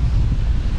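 Waves surge onto a wild, rocky beach in Phuket, Thailand, a heavy low rumble of surf mixed with buffeting wind on the microphone, continuous and close, with no talking.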